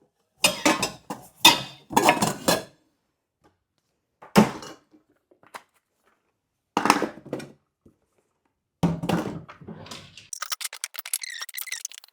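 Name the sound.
dishes and utensils being packed into a moving box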